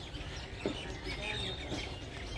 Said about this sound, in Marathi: तर आता चिमण्यांचा आवाज येतो,